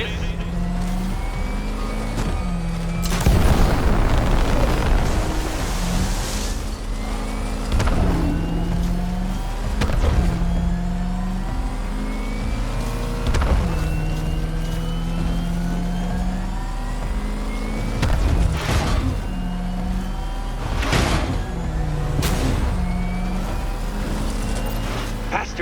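Batmobile engine racing in Batman: Arkham Knight, a loud, steady motor roar with repeated revving surges and passes, overlaid by a taunting voice speaking throughout.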